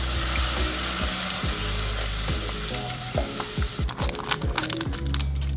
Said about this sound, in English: Gradually stir in our milk.